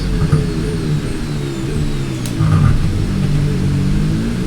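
Formula 1 car engine in the racing game F1 26 during a race in Bahrain, a loud, steady high-pitched whine that rises in pitch and swells briefly as a rival car passes close by.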